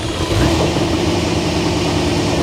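A C4 Corvette ZR1 V8 runs after starting, its engine note rough and uneven from a misfire, holding a steady, moderately loud idle with no talking over it.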